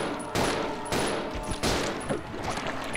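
Gunfire in Resident Evil 0, a few loud, sharp broadband bursts at irregular intervals over a busy game soundtrack.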